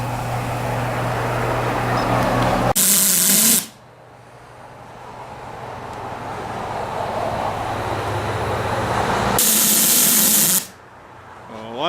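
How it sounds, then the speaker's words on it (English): A steam boiler's pop-off safety valve lifts with a loud, sharp hiss of escaping steam, bursting in twice for about a second each, over a steady low rumble and a long duller hiss between the bursts. "the pop-off valves should go off here pretty soon"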